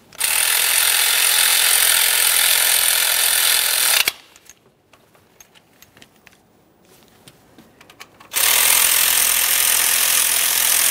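A ratchet snugging 10mm nuts on the intake of a 2011-2020 Toyota Sienna 3.5L V6, loud continuous mechanical clicking that stops for about four seconds of near silence, then resumes, close by with no talk.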